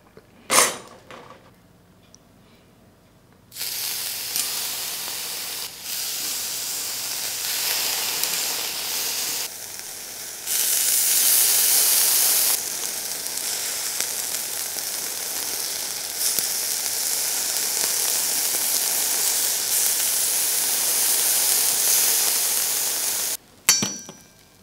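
Japanese domestic beef skirt steak, harami, grills with sauce over a charcoal shichirin, giving a steady close hissing sizzle that starts after a few quiet seconds and swells in louder surges as the sauce hits the heat.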